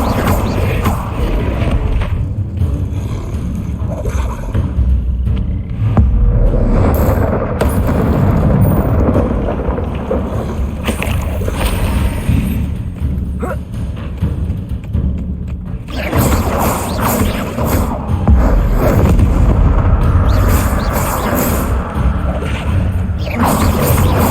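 A dense, roaring burst of spell effects from the Incendio fire spell in Hogwarts Legacy on PlayStation 4 Pro, with thumping impacts layered into a loud, continuous wash. It dips briefly partway through and then swells again.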